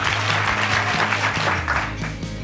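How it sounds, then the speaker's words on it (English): Clapping from an audience fills the space, a loud, dense patter of many hands that runs without a break for a couple of seconds, with a low hum underneath. "All right, let's start with a clap."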